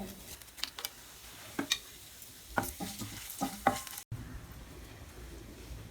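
Whole spices, cinnamon, cloves and bay leaf, fry in hot oil for an egg gravy, with a soft sizzle and a few sharp clicks and stirring taps near the pan, then a quieter steady hiss.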